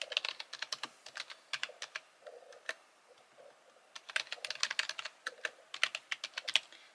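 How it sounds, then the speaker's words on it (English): Quick light keystrokes tap away on a computer keyboard in two bursts of rapid typing with a short pause between them, close and fairly quiet. "What you'll want to do now is type in the text that you're going to be using on your cake topper"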